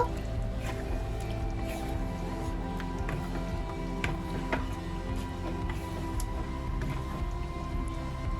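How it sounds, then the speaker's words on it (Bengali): Fresh cream is stirred into a finished chicken hariyali curry in a pan, giving soft wet squishing and dripping sounds over a steady background hum, with no talking. "এবার আমি এর উপর দিয়ে ফ্রেশ ক্রিম দিয়ে দিচ্ছি। একটু নেড়ে নেব।"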